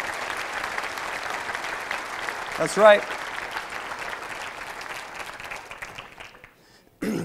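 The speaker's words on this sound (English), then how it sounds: "Why don't you give them a round of applause?" Breakfast event audience applauding the speaker's parents, a moderate patter of many hands that thins out over several seconds, with a brief voice and a louder noise near the middle and a sudden sound at the end.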